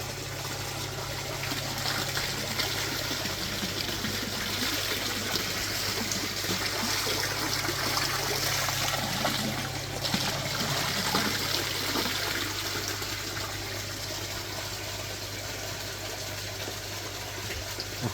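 Water from a garden hose pours steadily into a garden pond, a continuous close splashing rush that hardly varies for about eighteen seconds, with no talk.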